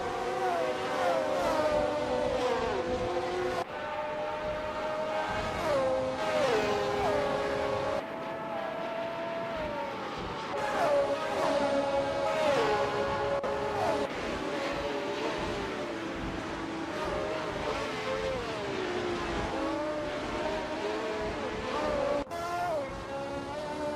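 Racing engines from 1971-class race cars scream through gear changes around the Dijon-Prenois circuit in a racing video game, several cars droning together loudly and continuously with rising and falling pitch sweeps.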